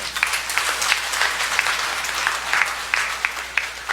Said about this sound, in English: Shall we give them a round of applause, please?